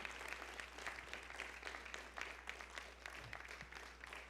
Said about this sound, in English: Let's give another round of applause to Uncle Nate Winman.